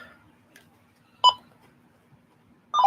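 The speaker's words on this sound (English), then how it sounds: "Alright, let's try to get Hunter on the line." A phone dials out, giving a couple of short, clear keypad tones separated by quiet gaps over a low steady hum.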